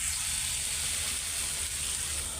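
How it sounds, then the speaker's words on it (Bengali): Potato bhaji sizzling steadily in a pan, a continuous close hiss of frying with no break or talk throughout. "ভাজিটা হইতে থাক"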